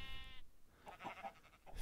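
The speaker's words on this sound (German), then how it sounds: "Fiesen Schafe." A Minecraft sheep gives one short, clear bleat at the start, followed by faint game ambience and soft scattered sounds.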